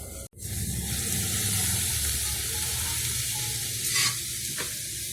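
Mango pickle ingredients fry in hot oil in a pan, giving a loud, continuous sizzle and hiss close by, with a short clatter near the start.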